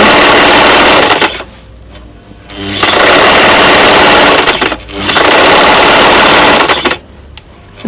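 A sewing machine stitches around a T-shirt dress in loud, close, rapid mechanical bursts, running for a couple of seconds, stopping briefly, then starting again, with no voices.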